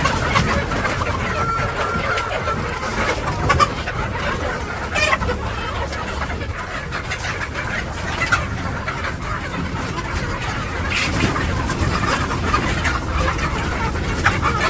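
Village rooster and chickens clucking, with scattered bird calls over a busy background; voices talk intermittently throughout.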